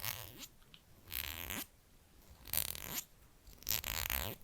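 A strip of many small staples stuck together is handled up close, giving several separate bursts of crisp rustling and clicking with quiet pauses between them. No one speaks.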